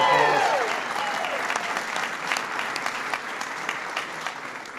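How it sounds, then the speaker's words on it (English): A room full of guests at an LGBT Pride reception breaks into a big round of applause, dense steady clapping that starts loud and holds for several seconds with a few sharper claps and cheers on top. "Give Roberta a big round of applause."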